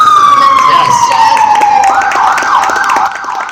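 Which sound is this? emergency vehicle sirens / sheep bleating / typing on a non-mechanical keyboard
emergency vehicle sirens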